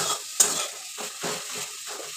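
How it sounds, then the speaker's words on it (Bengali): Ingredients cooked down until dry and crisp are stirred in a pan, with a faint sizzle under repeated scraping strokes about every half second and one sharp metallic clink early on. "ভাজা ভাজা হয়ে গেছে।"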